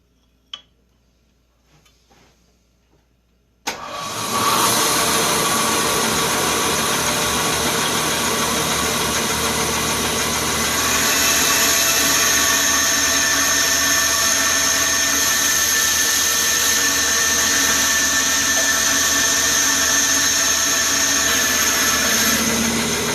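A power saw cuts soapstone for pipe making, starting abruptly after a few quiet seconds and then running as a steady loud grinding whir with faint ticking for the rest of the time, with no talking.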